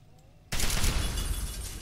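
Explosion in the video game Fallout 3: a sudden loud blast bursts in after a quiet moment and settles into a dense, rumbling, crackling wash of debris that fills the rest of the moment.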